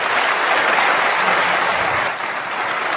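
A debate audience applauds, a loud sustained roar of clapping that eases slightly toward the end, with no voices over it.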